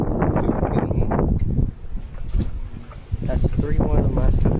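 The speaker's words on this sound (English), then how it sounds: "It's really, really windy." Strong gusty wind blowing over a lake on a fishing outing, rumbling buffets against the microphone that rise and fall, with people talking over it.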